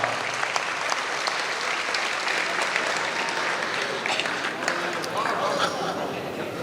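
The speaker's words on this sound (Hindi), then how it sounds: "मैं आपके लिए ताली बजाना चाहता हूँ" A crowd applauds at a mushaira poetry gathering in Kolkata, with dense, continuous clapping throughout and a murmur of voices mixed in.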